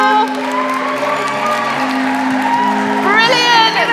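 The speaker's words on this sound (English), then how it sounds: "Let's keep that applause going for." A crowd applauds and cheers as a team walks up to collect a trophy at the FIRST LEGO League UK Nationals in Harrogate. Steady, dense clapping with whoops runs throughout, mixed with voices and a tonal background.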